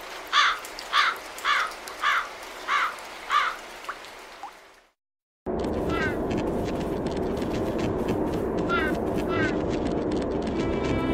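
A series of about six rhythmic cawing calls from crows and magpies, evenly spaced, followed after a brief silence by steady rain-like noise with a few faint bird calls.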